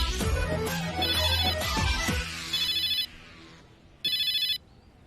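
A telephone rings in repeated electronic bursts, fairly close, first under other noise, then alone with short pauses between rings.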